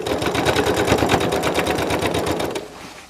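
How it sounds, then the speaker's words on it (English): A sewing machine with a walking foot stitching quilt blocks runs in a fast, steady mechanical chatter, loud and close, for a few seconds before stopping abruptly. "I always sew with a walking foot on this machine."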